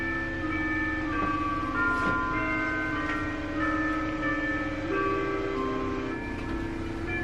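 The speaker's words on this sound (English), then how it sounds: "one thing that I like about being back home is these church bells." Church bells ring out from a distance across a hometown, overlapping sustained tones swelling and fading against a faint background hum, with no voices present.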